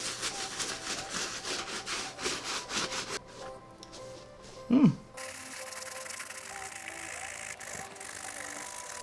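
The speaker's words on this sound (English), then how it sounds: "Even when you're scrubbing it, I don't think you want to scrub that hard" A brush scrubs a Nike Blazer Mid 77 sneaker in rapid, close rasping strokes, pausing briefly with a soft knock before quieter scrubbing resumes.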